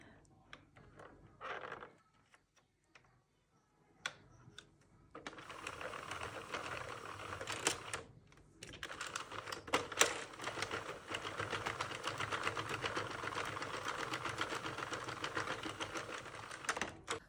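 A Sentro toy knitting machine cranked by hand, its plastic needles clicking in a fast, steady ratcheting rhythm that settles into a dense continuous clatter after a few short starts and pauses.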